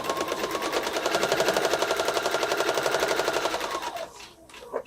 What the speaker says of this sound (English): We're just going to sew right on that line.